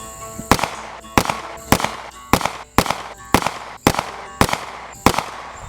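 Eight sharp pistol shots from a Stoeger Cougar 8040F fired offhand at a target, spaced evenly about two-thirds of a second apart, each a loud crack with a short ringing tail, no talking.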